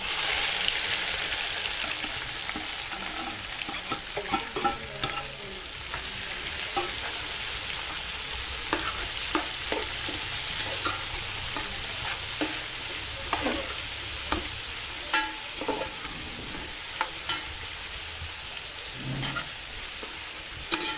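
Onions frying with garam masala in oil for prawn biryani, a sustained close sizzle punctuated by frequent sharp spatula knocks and scrapes as the pan is stirred over about twenty seconds.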